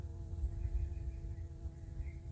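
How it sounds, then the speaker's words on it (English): Honey bees fly around a swarm trap hung in a tree, a steady low buzzing hum that continues without a break at moderate level, with no talking. "there's several bees that just went in. There's one of them that just went in the hive."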